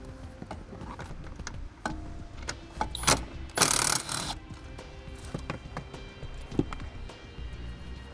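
Ratchet loosening a 10mm bolt on a 2008 vehicle's dash during brake relay kit installation, heard as sparse clicks and clacks with a brief louder burst of metallic noise near the middle, no talking.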